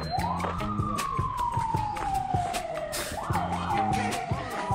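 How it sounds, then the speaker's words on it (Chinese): An ambulance siren sounds on the lower slopes of Kilimanjaro near the park gate during a forest fire, with a loud, sweeping wail that falls in pitch and then rises again, heard fairly close. "你现在听到这种救护车的声音"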